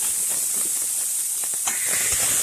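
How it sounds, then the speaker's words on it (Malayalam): Masala-coated prawns fry in hot oil in a Kerala-style prawn dish, making a steady loud hiss and sizzle with faint crackles, close up and without talk. "ഇങ്ങനെ പൊരിച്ചു വരുന്ന ഈ ഒരു സമയത്ത് നമ്മുടെ ചെമ്മീൻ ഇങ്ങനെ ഇട്ട് കൊടുക്കുക."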